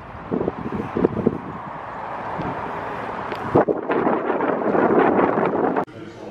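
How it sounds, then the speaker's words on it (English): Steady wind buffeting a microphone, a loud broadband rumble that swells and persists throughout, with brief knocks and rustles mixed in. "I'm not sure you can hear me because it's windy as fuck"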